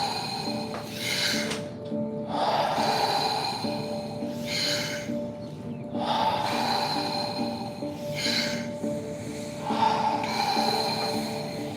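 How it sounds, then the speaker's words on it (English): Deep, rhythmic breaths during guided breath work, each cycle a forceful nasal inhale followed by an audible exhale, repeating about every three to four seconds, close and clear with no talking. "Breathe in. Breathe out."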